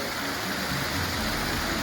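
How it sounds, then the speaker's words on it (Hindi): Water falls steadily at the main entrance path into Polo Forest in Gujarat, making a continuous broadband rush with no pauses and no voices. "ये पानी गिरता हुआ बहुत ही अच्छा लग रहा है,"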